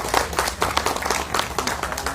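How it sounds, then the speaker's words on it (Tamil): An audience claps together at a Tamil film press meet, dense and fairly loud applause with individual hand claps audible close by, sustained throughout. "நம்ம மறுபடியும் ஒரு கைத்தட்டி பாராட்டு தெரிவிச்சுக்கலாம்"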